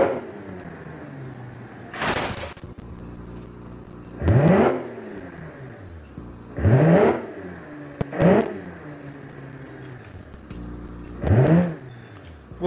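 A rear-wheel-drive drag truck in BeamNG revs up in a series of loud, rising engine bursts, about five separate runs spaced a few seconds apart with quieter idle between them.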